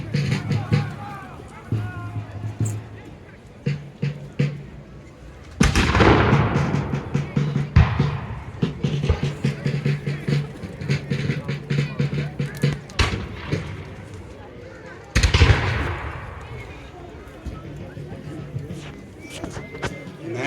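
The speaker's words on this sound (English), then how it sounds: "But the gunfire continues." Sharp volleys of musket fire and a couple of heavy cannon booms ring out across open ground at a Guilford Courthouse battle reenactment, with scattered pops and crackles between the bigger blasts.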